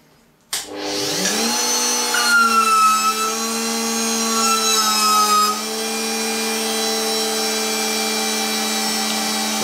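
A chamfering machine deburring a piece of PEEK plastic starts abruptly and settles into a loud, steady whine with a tonal hum, holding constant for several seconds with slight shifts in pitch.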